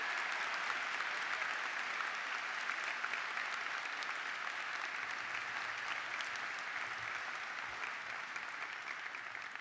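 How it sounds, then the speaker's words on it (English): Sustained applause from a large crowd at a university graduation ceremony, steady and fairly distant, with no voices standing out. "Let's just give them a quick round of applause."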